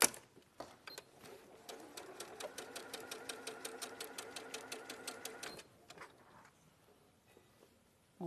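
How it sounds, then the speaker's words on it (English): Domestic sewing machine stitching across small fabric pieces along a pen line, a fast even rattle of needle strokes for several seconds before stopping, with faint quiet sounds after. "we're just using that pen line to sew across"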